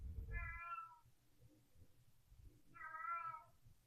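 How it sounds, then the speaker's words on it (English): A house cat meows twice in long, loud calls spaced a couple of seconds apart, with quiet room noise between them. "that's my cat meowing"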